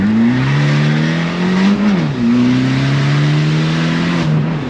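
An Abarth 595 with a decat exhaust pulls hard through first and second gear, its loud close engine note rising, dipping briefly at the shift, then climbing again.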